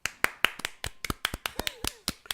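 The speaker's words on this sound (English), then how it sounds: "let's do clap until you cannot anymore" Hands clap in a quick, irregular series of sharp smacks, close by, with no one talking.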